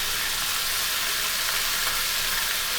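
Tomato chutney with coconut sautés in a pan, giving a dense, even sizzle and crackle that holds steady and loud throughout, with no voices.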